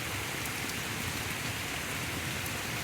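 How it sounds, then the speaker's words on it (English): Steady rain falls during a thunderstorm, a dense, even hiss of drops pattering on surfaces close by, continuous with no voices. "I hope it's raining at the farm like it is raining here."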